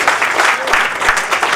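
An audience at a song evening breaks into dense, continuous applause, many hands clapping together in a steady roar close by.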